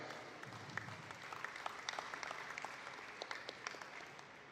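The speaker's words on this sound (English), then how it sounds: "give a big round of applause" Quiet, distant applause from the crowd at a New Zealand dairy cattle event honours the visiting Ayrshire judge from the USA, a soft patter of scattered claps with a few sharper ones standing out.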